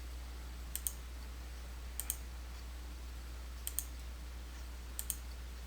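Four quiet pairs of computer mouse clicks at irregular intervals over a steady low electrical hum, made while working in QuickBooks Desktop Pro 2021 on a PC.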